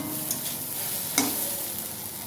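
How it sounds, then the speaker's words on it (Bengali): Vegetables and semolina frying in a pan as a spoon stirs them, a continuous close sizzle with a couple of brief scraping clicks of the spoon against the pan. "এইভাবে আরেকটু নাড়িয়ে নেব"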